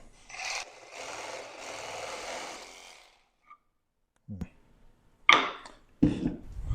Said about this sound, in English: it's time to cut these tabs off. I got my trusty little hacksaw.